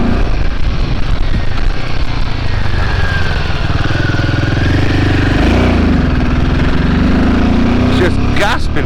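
Royal Enfield Himalayan motorcycle labouring uphill on a steep mountain road: a loud, steady engine drone whose pitch shifts and swells midway, with wind rush and a rider talking over it.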